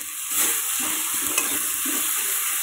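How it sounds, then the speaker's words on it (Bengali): Fish with salt, turmeric and a pinch of cumin frying in a pan, giving a steady soft sizzle with a few scraping stirs of a spatula, no voices. "দিয়ে এটাকে আমি সুন্দর করে নাড়াচাড়া দেবো"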